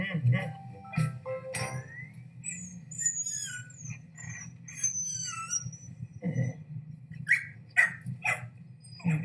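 A dog barks and yips in short scattered bursts inside a Subaru Crosstrek advert, with squeaky whimpers between and speech nearby.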